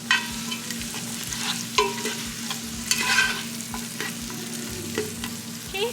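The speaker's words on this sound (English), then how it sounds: "so I'll just show how I stir it for now" Onions being stirred as they fry in a pot for a tortellini soup, with a steady sizzle and repeated scraping strokes of the spoon, close and continuous.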